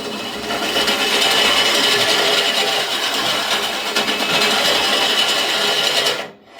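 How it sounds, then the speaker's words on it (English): A power auger drill runs steadily for several seconds in a continuous loud grinding whir, worked in and out, then cuts off abruptly. "just sit there and run your auger in and out"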